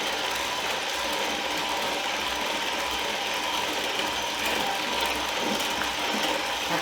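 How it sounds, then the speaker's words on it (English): Electric mixer whirring steadily while blending sweetened condensed milk, egg yolks and key lime zest for pie filling, a loud continuous mechanical drone with a gritty rattle and no pauses. "now we've been blending the sweetened condensed milk, the 3 egg yolks, and the key lime zest for about 3 to 4 minutes"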